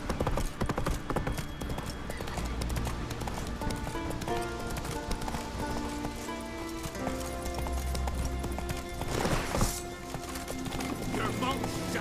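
Horse hooves clip-clopping at a steady run in The Witcher 3 video game, rhythmic thuds under layered game music, with a brief whinny and game voices talking over it.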